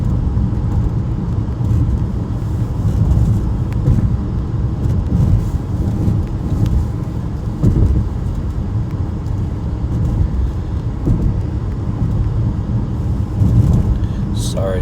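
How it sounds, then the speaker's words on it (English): A car cruising on a highway, a steady low road and engine rumble filling the cabin throughout, with someone talking over it. "Sorry, Slakia, I'm driving on the highway"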